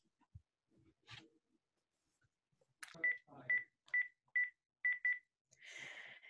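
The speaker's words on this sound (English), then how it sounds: "Say, mind if I use your phone?" Someone dials a telephone: a brief rustle and handling noise, then a quick series of about six evenly spaced dial tones, ending in a softer hiss from the handset.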